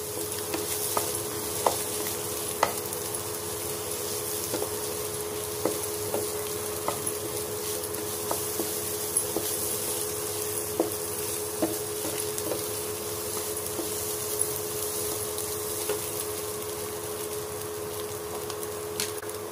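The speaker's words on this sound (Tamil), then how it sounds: "அதனால 2 முட்டை ஊற்றிருக்கிறேன்" Two eggs sizzling in a pan as they are stirred, a steady low frying hiss with light irregular scraping taps of the utensil, fairly close and with no talking.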